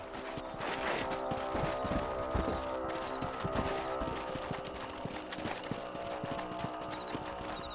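Horses trot in the video game Red Dead Redemption, with steady overlapping clip-clop hoofbeats, close and continuous, under a background of game ambience.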